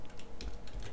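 Fast computer keyboard typing while entering Direct3D 9 C++ code, a steady run of light, close clicks with a few slightly stronger keystrokes.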